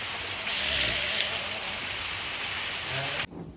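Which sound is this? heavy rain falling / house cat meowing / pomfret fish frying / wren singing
heavy rain falling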